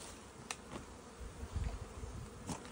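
A honeybee swarm buzzes steadily in close-up while being caught by hand, a dense droning hum with a few sharper bumps and rustles.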